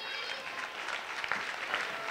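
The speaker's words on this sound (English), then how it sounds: "We'll give her a round of applause." Applause at a primary school Black History Month program, a crowd clapping steadily and moderately loud with no talk over it.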